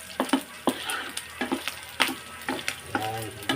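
Pork crackling being stirred in a sizzling frying pan, with a steady hiss of frying and a series of sharp scraping clanks from the utensil at an irregular rhythm, close and fairly clear.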